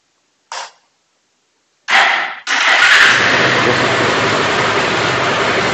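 A Bajaj Pulsar 180 motorcycle with a pickup and RPM problem coughs with a brief blip, then the starter cranks and the engine catches, settling into a loud, steady close-up idle.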